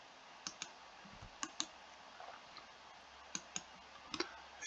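Sharp, quiet computer mouse clicks come singly and in quick pairs, scattered across a near-silent room.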